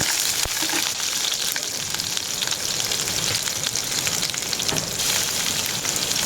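Chopped onion and green chili sizzle steadily in hot oil in a pan, a dense continuous frying hiss with a few faint stirring scrapes, fairly loud and close with no talking.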